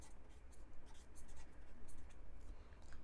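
Pen or chalk writing during a Hindi biology lesson on plastids, a steady scratchy run of strokes with brief pauses, close and fairly faint, with no speech over it.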